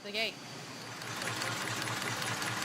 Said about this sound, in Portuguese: Este velho, porém robusto, motor para teste de detonação.